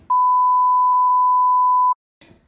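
Censor beep: a steady pure electronic tone held for nearly two seconds, loud and alone, with a faint voice fragment just after it ends.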